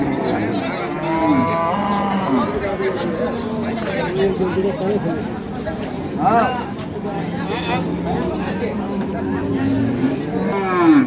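Cows and calves low and moo repeatedly at a busy rural cattle market selling improved-breed dairy cows with calves, amid steady crowd chatter and nearby voices talking over the animals.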